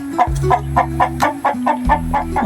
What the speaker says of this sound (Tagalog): mga yan, mga manok na yan